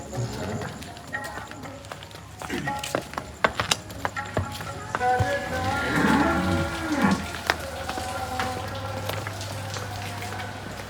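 Cattle moo amid farmyard noise at a cattle dealer's yard in Dhotian village, Punjab, with Sahiwal cows and Nili-Ravi buffaloes, clopping hooves and people talking nearby; a long low call stands out in the middle.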